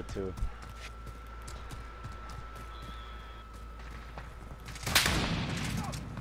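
A Renetti burst pistol fires in Modern Warfare, with several clipped game gunshots and one loud burst near the end, the sharp cracks set over rapid footsteps and game background noise.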